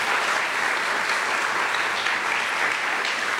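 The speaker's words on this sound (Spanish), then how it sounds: "¿Alguien puede dar un aplauso al Señor por eso?" Steady, dense applause from a church congregation during a Christian worship service, close and loud, filling the space without pause.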